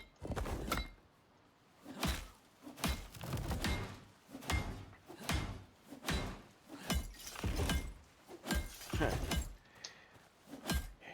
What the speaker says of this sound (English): Hit a glass wall with a hammer.